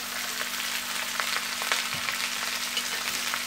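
Chopped vegetables hiss in a hot pan as a steady, loud, close sizzle with occasional crackles and pops, continuous throughout, with no talking.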